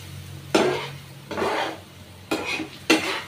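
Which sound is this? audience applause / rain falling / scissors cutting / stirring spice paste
stirring spice paste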